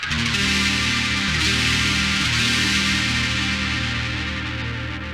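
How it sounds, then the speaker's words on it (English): An electric guitar run through a Darkglass bass preamp, with a thick, dark tone, plays a brief sustained phrase, full and steady with no voices. "input 7, which is going through a dark glass preamp, will sound like this"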